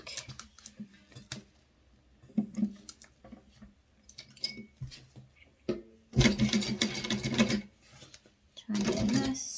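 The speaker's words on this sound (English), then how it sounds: "I'm going to start from the bottom and sew up to the curve" A sewing machine stitches a leather-style minimalist wallet in two loud, steady runs of rapid mechanical stitching, with quieter clicks and handling noises before them.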